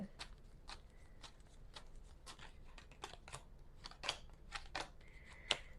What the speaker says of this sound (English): I'm going to pull 6 cards.